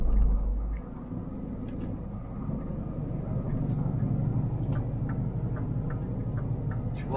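An old truck engine idles close by with a steady low rumble and a rapid repeating ticking clatter, heard alone without talk.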